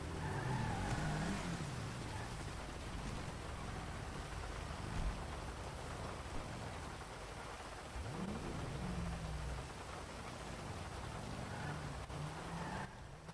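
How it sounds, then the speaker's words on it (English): Busy street traffic in the video game GTA 5, a continuous loud roar of passing vehicles with engine swells and a few rising pitch sweeps, no voices over it. "So loud here. Why is there so many vehicles?"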